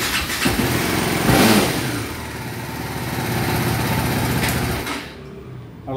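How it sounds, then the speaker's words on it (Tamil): A TVS Apache RR 310 motorcycle, just topped up with radiator coolant, starts and runs with a loud, close, steady engine drone before cutting off near the end. "இப்போ வண்டியை ஸ்டார்ட் பண்ணலாம்."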